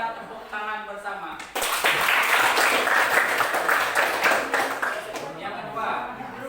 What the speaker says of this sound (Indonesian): Silakan kita tepuk tangan bersama.